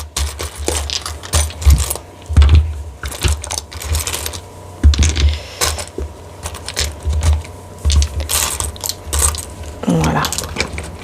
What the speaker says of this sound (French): Hop, avec les dés et les breloques. Donc je vais d'abord prendre les dés.